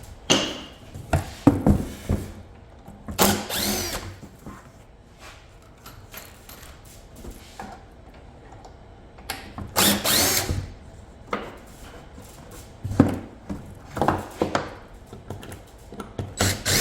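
A power drill drives 3-inch screws into wood during a passive solar heater build, with several bursts of motor whine and screw grind separated by pauses and light handling knocks.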